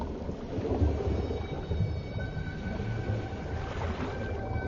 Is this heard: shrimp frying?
no